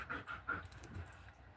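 A four-month-old all-black puppy pants in quick, soft, close breaths, a steady rhythmic huffing that runs through the whole short stretch with no voices over it.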